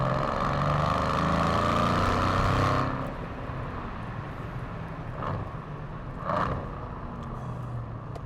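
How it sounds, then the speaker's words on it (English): A 2015 Mercedes-AMG C63 with a 4.0 V8 and 7-speed transmission roars loudly at first, then drops to a lower rumble with two short sharp bursts on the downshifts. "On the downshifts, God, how nice does it sound."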